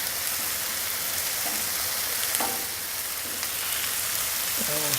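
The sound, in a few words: asparagus placed on a hot flat top grill, sizzling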